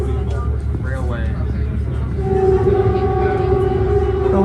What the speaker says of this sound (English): The horn sure does echo here.